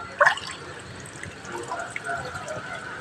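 Water splashes and drips from a fish trap as it is lifted out of the water. A brief splash comes first, then soft trickling and dripping against faint outdoor background noise.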